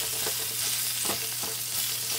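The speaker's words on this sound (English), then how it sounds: "Take the casing off, I'm gonna chop it up with my spatula." Sweet Italian sausage sizzles steadily in a hot pan while a spatula chops and scrapes through it in a few quick strikes, close and continuous.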